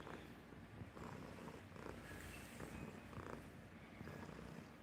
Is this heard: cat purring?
yes